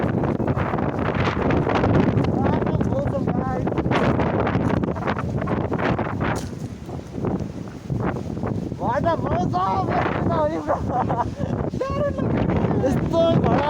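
Strong gusts roar and buffet the microphone near a view tower by a village, a loud churning rush that swells and dips, while people talk over it.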